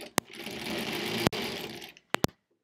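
A 1938 Kenmore model 38 sewing machine stitching half square triangles runs in one steady close whirring burst of about two seconds, framed by a few sharp clicks and knocks before and after.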